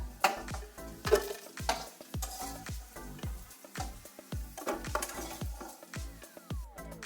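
Small molonti fish fried red in a wok are lifted out with a metal utensil: repeated sharp scrapes and clinks against the wok at a steady pace, with a soft oil sizzle underneath.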